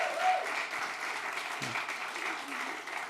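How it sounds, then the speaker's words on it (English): An awards-ceremony audience applauds a team called up on stage, dense continuous clapping at moderate level with a few cheers and voices mixed in. "Give them all a round of applause."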